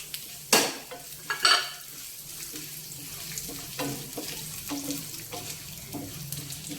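Mustard seeds, cumin and dried red chillies go into hot oil for a ponnaganti leaf pickle, starting with a few sharp splattering pops and then a soft, steady sizzle with light stirring clinks, heard fairly close and without talk.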